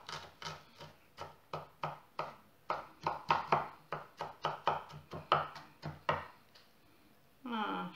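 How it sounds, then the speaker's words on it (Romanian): Knife chopping green onion finely on a board, a steady run of about twenty sharp, close taps at a quick uneven rhythm, followed by a brief voice at the end. "Tăiem mărunțel, mărunțel."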